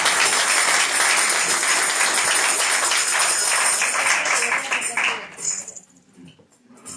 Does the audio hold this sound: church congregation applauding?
yes